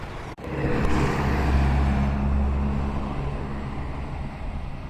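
Road traffic on a Saudi Arabian street flows by as a steady, moderately loud rumble of passing cars, swelling and fading slightly after a brief sharp knock at the start, with no talking.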